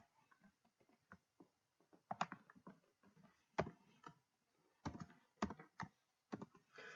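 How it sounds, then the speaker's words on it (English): A computer keyboard clicks with irregular bursts of keystrokes, some light taps and some harder presses, with brief pauses and no talking over it. "use your keyboard there"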